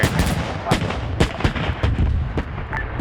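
Video-game gunfire rattles through a military squad match in rapid, irregular bursts of heavy booming shots, close and loud with no talk over them.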